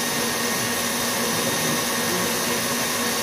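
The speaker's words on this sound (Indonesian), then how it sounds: "kalau untuk menggunakan hand mixer kita bisa lihat Langkah soalnya" An electric hand mixer beats cookie batter with a steady, loud, unbroken motor whir that holds constant from start to finish, with no talking over it.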